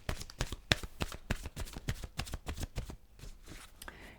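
Romance Angel Oracle cards being shuffled by hand, a rapid run of crisp riffling flicks and soft slaps, close and fairly quiet, with no talking.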